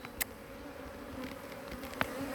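Honeybees buzzing around an Omlet Beehaus beehive in a busy, feisty colony, a faint continuous hum with brief louder passes of individual bees close by; no talking.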